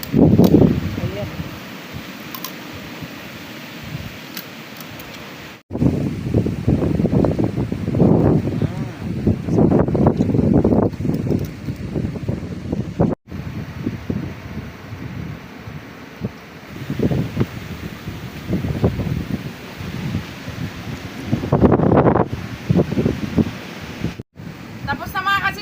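Wind blows at the seaside during a meal on the shore, loud buffeting gusts on the microphone with surf in the background and people talking intermittently.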